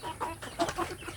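Native village hens and chicks cluck in a quick run of short, close calls over about a second, with no voices.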